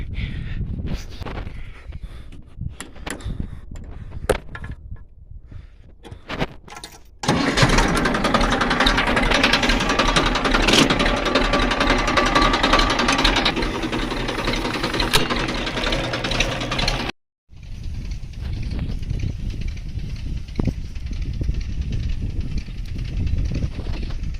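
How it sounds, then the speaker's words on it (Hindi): A tractor engine runs steadily in a farm field during crop spraying, a loud continuous drone with a rougher idling stretch before and after, briefly cutting out near the end. "इसलिए हमको ट्रैक्टर अपने खेत के बीच में लाना पड़ता है।"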